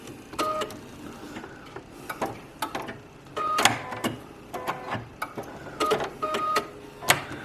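A sewing machine stitches quilt pieces for a Dresden Plate table runner in short, repeated runs, each a quick mechanical chatter broken by brief pauses, close and moderately loud with no talking.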